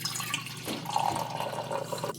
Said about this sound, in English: Just pouring myself another coffee here.